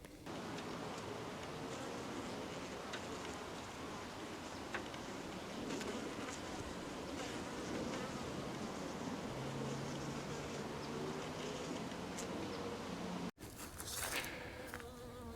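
Honey bees buzz around hives at the Ridge Apiary after an ice storm, a dense, steady, close swarm hum that runs unbroken with a brief knock near the end.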